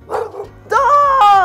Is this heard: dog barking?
yes